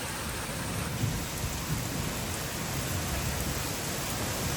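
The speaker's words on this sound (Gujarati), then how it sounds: "જોરદાર વરસાદ ચાલુ થયો છે" Heavy rain pours steadily with thunder rumbling low beneath it during a monsoon downpour, a dense, continuous roar with no voices.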